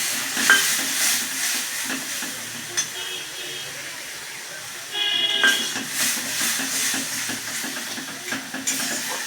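Masala spices frying in oil in a home kitchen pan while being stirred, giving a steady soft sizzle with intermittent scraping strokes and a louder burst partway through.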